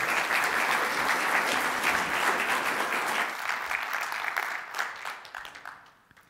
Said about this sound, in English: Please give Matt a warm round of applause for the demo.